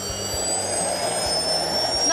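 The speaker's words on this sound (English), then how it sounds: "engine was made to power a model aeroplane, but I've tweaked it to work as a mini power station" Small gas turbine engine built for a model aeroplane, adapted with an exhaust turbine driving a little generator, runs with a steady high-pitched whine and continuous roar, loud and unbroken throughout.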